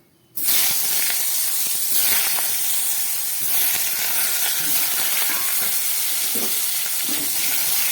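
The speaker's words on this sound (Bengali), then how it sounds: "এই তেলের মধ্যে আমি কয়েক টুকরো বেগুন ভেজে নেব।" Eggplant pieces fry in hot oil left over from frying fish, bursting into a loud, close hiss and sizzle that holds steady throughout with small crackling pops.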